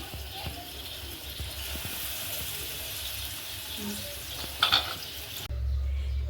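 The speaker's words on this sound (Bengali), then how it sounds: "এতো শেষ হলো ভাজা" Chicken fries in a pan with a quiet, even sizzle and light stirring, broken near the end by a short rattle and a dull thump.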